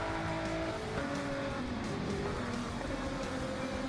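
Race cars in Gran Turismo 7 on the Spa circuit, a steady droning engine whine with shifting pitch as several cars run together, moderately loud and continuous, no talk over it.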